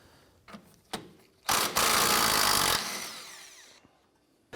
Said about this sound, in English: Using a 17mm socket and our wrench, we're going to go ahead and remove our clevis fork bolt, attaching it to the control arm.